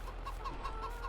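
Chickens in Farming Simulator 22 give a run of soft, rhythmic clucks over a low steady background hum, with no voices.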